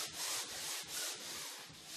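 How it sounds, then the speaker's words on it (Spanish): Fermacell panel joints are rubbed down with a metal sanding sheet, giving a steady run of close, rhythmic scraping strokes with short pauses between passes, heard alone. "se repasará con una lija metálica cualquier defecto o protuberancia"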